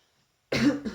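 A single close, sharp cough breaks out of silence, followed by a shorter second cough burst, with no talking around it.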